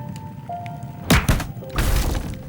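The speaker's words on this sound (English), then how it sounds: "followed by a thudding sound" A body hits the floor in a dramatized struggle, two heavy close thuds in quick succession followed by a rougher crashing impact, set against a faint steady tone.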